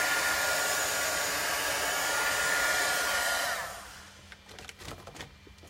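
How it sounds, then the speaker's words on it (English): A handheld embossing heat tool blows a loud, steady whooshing hum while drying chalk paste on a St. Patrick's Day chalkboard, then switches off and winds down, leaving faint handling sounds. "This is just an embossing tool that I have on hand"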